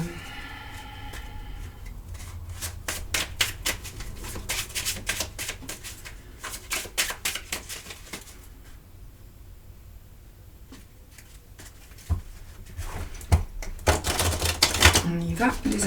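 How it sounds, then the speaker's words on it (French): Fortune-telling cards shuffled in quick bursts of rapid papery riffling and flicking, with a pause midway, as a voice talks over parts of it. "Je mélange pour mettre vraiment les énergies dans les cartes"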